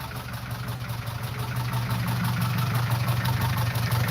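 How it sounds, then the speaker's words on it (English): A home-built car engine with a changed cylinder head, idling with a steady low hum and faint regular pulsing, fairly close, holding even throughout. "So this is the engine engine that Gav and I built"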